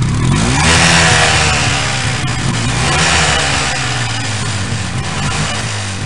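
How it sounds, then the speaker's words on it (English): A loud motorcycle engine revs and rumbles close by, its pitch rising, dipping and swelling again before settling into a throaty growl. "The motor rumbles and growls."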